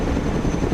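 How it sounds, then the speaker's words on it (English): A helicopter's dense, loud rotor and engine roar fills the whole moment, a close, unbroken wash of noise. "Helicopters are impressive machines."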